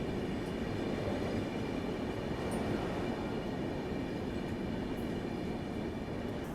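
The Karnavati Express runs at Udhna Junction station, 15 minutes late, with a steady loud rumble of rolling wagons and wheels throughout, no voices.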